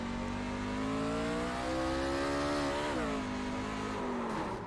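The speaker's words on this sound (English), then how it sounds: "You heard it, just wheel spin, and the truck went dead right" Onboard a race truck on a track, the engine roars loud and close, its pitch wavering and then dropping as the wheels spin, with faint tyre noise; no one speaks.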